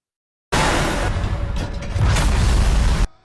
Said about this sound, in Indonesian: Tapi dalam perjalanan mobil mereka ditabrak sebuah truk hingga jatuh ke jurang dan meledak.